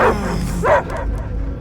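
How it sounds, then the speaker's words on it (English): Dog barking inside Marvel's Guardians of the Galaxy video game, a couple of short, loud yips close up, with game music and ambience continuing underneath. "I hear only barking."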